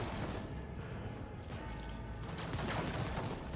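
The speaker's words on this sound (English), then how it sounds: "Oh, I hear gunfire and lasfire." Dense, continuous gunfire and lasfire from the video game Rogue Trader, a steady barrage of shots and crashes that never lets up.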